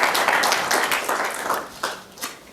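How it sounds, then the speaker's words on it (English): An audience applauds a panel at a university speaker series on the business of horse racing track maintenance, with dense, steady clapping that gradually thins out and fades. "let's give a warm round of applause for our panel tonight"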